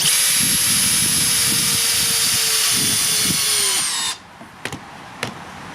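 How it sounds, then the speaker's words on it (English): A power drill on speed 1 whines loudly and continuously, driving screws, then stops abruptly, followed by a few sharp knocks. "The first screws to be put in will be done at speed 1 on the drill setting."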